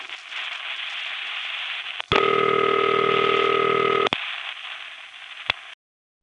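Ringback signal heard on a call through the DA9 exchange in the Bronx, a loud steady two-second ring tone over a hissing line, preceded and followed by quieter line noise with clicks.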